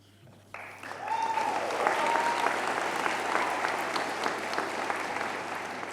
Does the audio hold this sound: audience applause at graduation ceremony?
yes